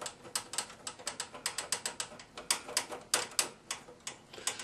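Screws being fitted back into a computer case, a quick run of sharp ratcheting clicks and ticks, close and fairly steady, with no talk.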